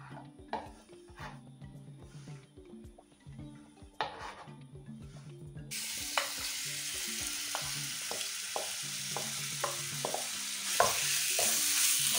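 Chopped vegetables for chicken fajitas frying over high heat, first clattering and knocking with spatula taps, then a sudden rush of loud steady sizzle that keeps going under repeated scrapes and clicks of the utensil against the pan.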